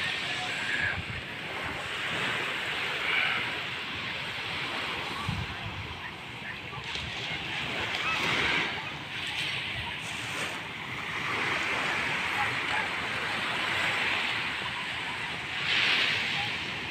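Sea waves washing onto a morning beach, a steady surf roar with gentle swells rising and falling, mixed with wind noise across the microphone and faint distant activity.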